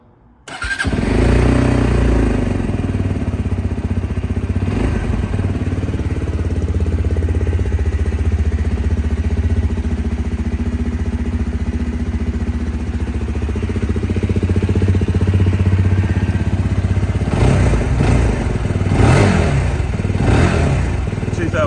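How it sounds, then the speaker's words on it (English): A Lexmoto LXR SE 125 motorcycle starts up close by, then settles into a loud, steady idle before a few sharp revs near the end. "Let's start her up."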